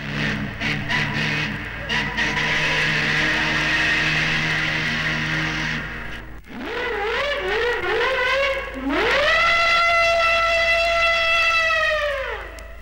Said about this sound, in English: Here the Manxman sounds first, her triple bell steam whistle, followed by a naval type siren